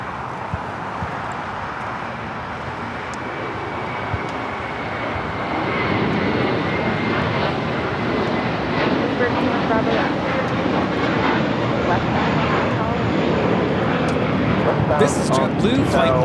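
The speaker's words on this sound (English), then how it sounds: "This is JetBlue Flight 100 taking off to Fort Lauderdale on the A321." Airbus A321 jet on its takeoff roll at Los Angeles airport, a broad steady engine roar that swells louder partway through and holds, with people chatting over it.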